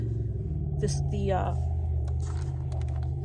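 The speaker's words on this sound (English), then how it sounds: "you hear a truck. There's a truck out there" A truck idles outside a vehicle parked overnight in a store parking lot on a cold night. Its steady low rumble comes through the walls, constant and fairly strong, while a person talks over it.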